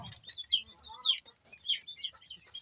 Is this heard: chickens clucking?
yes